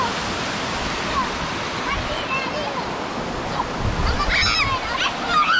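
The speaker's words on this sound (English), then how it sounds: "Look at that pretty waterfall, absolutely beautiful." A waterfall at a boat race, a steady broadband rush of falling water that stays loud throughout, with faint voices underneath.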